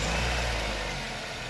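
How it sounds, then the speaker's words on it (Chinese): A repaired car engine, fixed for oil burning and piston knock, running at a smooth, even idle, a steady low hum held at constant loudness for a moment with no talking. "下面咱们启动发动机来看一下效果如何"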